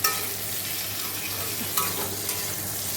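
Boiled rice stirred in a hot pan with salt and turmeric gives a continuous moderate sizzle and hiss, with a couple of scraping spoon strokes and no voices.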